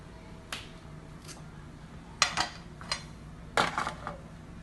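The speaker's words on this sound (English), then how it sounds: "Now I'm going to plate my burger." A cheeseburger set onto a dish, with a handful of sharp, close clinks and taps of plate and utensil spaced irregularly over a quiet background.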